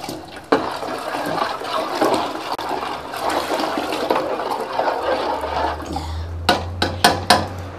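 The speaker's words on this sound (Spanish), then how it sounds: "Ahora luego esto le vaciamos en la agüita que está previamente ya hervida." A flour mixture is poured into a pot of already boiled water, a loud continuous watery gush that settles into a low rumble, ending with several sharp knocks of a utensil against the pot.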